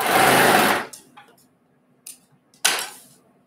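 A sewing machine stitches quilt block sashing in one loud, fast, whirring burst, then falls quiet apart from faint clicks before a second short run starts near the end.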